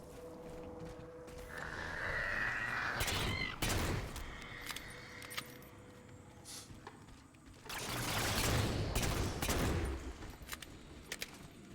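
Halo 4 handgun shots in bursts of sharp cracks, separated by quieter stretches of clicks and handling noise, moderately loud with no talk.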